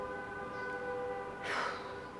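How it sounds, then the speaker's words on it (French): Car horns honk outside in a French street, a sustained, slightly distant horn tone joined by a brief louder blast. "Encore les klaxons."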